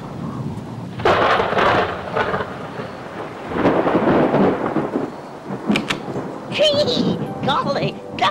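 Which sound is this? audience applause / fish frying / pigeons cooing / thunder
thunder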